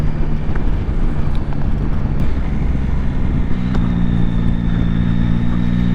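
A Yamaha Tracer 9 GT+ motorcycle's engine droning steadily while riding, mixed with heavy wind rush, with a gear change shifting the engine note partway through.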